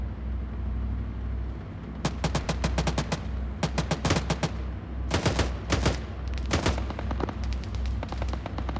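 Gunfire during an amphibious assault in Arma 3, with loud rapid bursts of automatic fire coming in several clusters over a steady low engine rumble.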